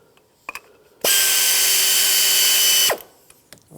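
Power tool, likely an impact or ratchet driver, spinning out bolt fasteners on a 1997-2001 Lexus ES 300 during timing belt and water pump work: one loud, steady whir of about two seconds, with brief clicks before and after.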